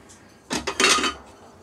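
Plates and dishes clink and clatter briefly as they are packed into a box, in a short burst of a few hard ceramic knocks, close and alone.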